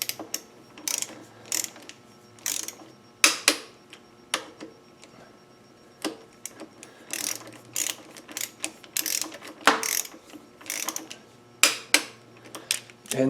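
A ratchet tightens the right-side front brake pinch bolts on a Kawasaki KLR 650 motorcycle. It makes irregular short bursts of clicking between pauses, moderately close and fairly faint, with light handling clatter.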